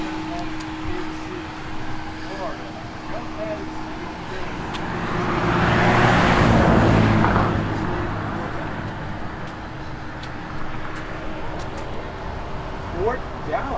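The small Pigeon Key Express tourist train car, full of passengers, rolls past on a Florida Keys bridge, swelling from a steady roadway rumble to a near pass midway, then fading back into wind and traffic noise.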